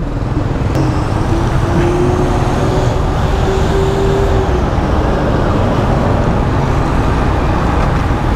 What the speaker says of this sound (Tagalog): Traffic dito sa Manila, grabe, kasama na yata yung sa pamumuhay.